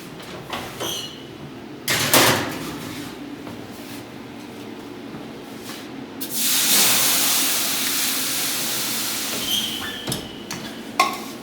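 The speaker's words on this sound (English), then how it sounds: "I've got a broiler pan underneath and into which I will pour some water to steam the bread" Water hits a hot broiler pan in an oven while bread bakes, giving a burst of steamy hissing that swells and lingers, framed by clunks and a sliding oven rack or door sound at either side.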